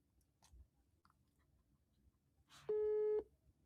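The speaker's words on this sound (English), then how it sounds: "How can a cell phone come up with a busy signal?" A cell phone call on speakerphone returns a telephone busy signal, a steady half-second tone following a short burst of noise, over a quiet room with faint clicks.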